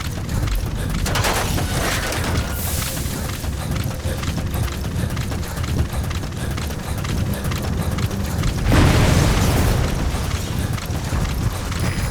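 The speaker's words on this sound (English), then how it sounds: "That explosion? There's smoke. The target's crashed his vehicle." A crashed vehicle exploding in the video game Metal Gear Solid V: The Phantom Pain, heard as a loud rumbling boom with debris and crackling amid continuous game ambience, swelling near the end.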